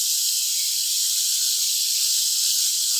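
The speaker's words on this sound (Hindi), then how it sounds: "वो हम इसमें डाल देंगे और इसे अच्छे से फ्राई कर लेंगे इसमें" Spice-marinated chicken sizzles in hot oil in a pan, giving a steady, bright hiss that stays even and close throughout, with no voices.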